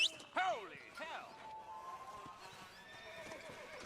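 A horse whinnies loudly at the start of a Red Dead Redemption game scene, with a second neigh and hoofbeats following, then a quieter stretch of game ambience with faint clatter.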